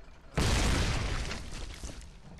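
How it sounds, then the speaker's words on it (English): A grenade blows up in the war game Foxhole with one sudden loud boom that rumbles and slowly fades over about two seconds. "Grenade!"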